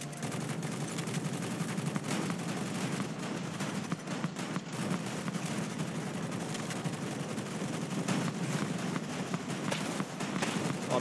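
Rapid weapon gunfire crackles in a dense, continuous stream in the multiplayer game Avatar Reckoning, with steady loud bursts layered over game noise and no clear pauses.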